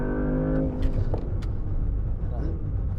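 A 2024 Porsche Panamera in Sport Plus launches hard from a standstill, its engine rising in a steady, rumbling surge that fills the cabin while an excited voice talks over it.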